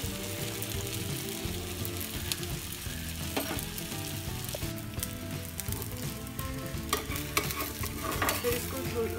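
Oil sizzling around a suji-besan cheela on a hot pan, a dense, steady crackle and spatter heard close up, with occasional sharper pops and no voices.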